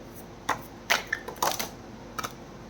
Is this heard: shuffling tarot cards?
yes